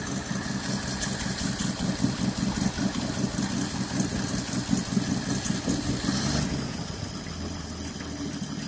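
A small engine fitted with a new single-barrel carburetor runs at high idle, a steady rapid chugging hum that smooths and drops partway through, with no talk.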